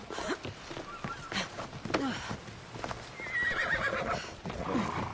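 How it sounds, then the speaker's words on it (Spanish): A horse neighs and its hooves clip-clop in Assassin's Creed Odyssey, with several whinnies and steady hoof steps close by over ambient game sound. "Por favor, caballo."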